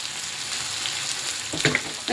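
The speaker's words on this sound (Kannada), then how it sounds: "ಇಷ್ಟನ್ನು ಫ್ರೈ ಮಾಡ್ಕೊಳ್ಳೋಣ ಚೆನ್ನಾಗೆ ಚೆನ್ನಾಗಿ ಫ್ರೈ ಆಗ್ತದೆ" Turmeric and chili powder frying in hot oil for an egg curry, a soft, steady sizzle with a short burst of louder crackling and a stirring clink near the end, close and without speech.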